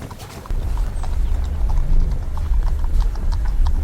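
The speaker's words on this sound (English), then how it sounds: "that's my horse just ahead of me, the Yumzane gelding" A gelding's hooves clip-clop in a quick, steady rhythm nearby, the beats growing louder after a short quieter opening and running continuously with no voices.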